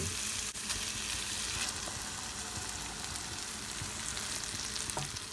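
Loud, steady frying sizzle of a potato mixture stirred into hot, oil-separated masala in a pan for Mumbai-style pav bhaji, with occasional spoon scrapes and no talk.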